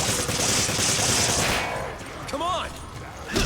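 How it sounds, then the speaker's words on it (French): Magnum gunfire in the co-op shooter Resident Evil 5: a dense, loud burst of shots fills the first second and a half, then fades to quieter game sounds with a few brief chirps. "Le magnum, ça marche bien!"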